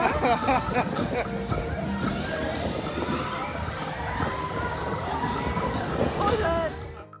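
Dense crowd hubbub at Oktoberfest, a festival with parades and horses: loud continuous babble of many voices with occasional cheers and shouts, steady throughout and close around.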